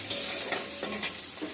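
Chicken frying in a pan while being stirred, with a steady close sizzle and a few scraping stirs over about a second and a half.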